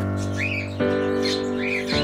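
Pigeons in a loft with newly hatched chicks give repeated calls. Two rising whistled notes sound close and clear over a steady, droning background.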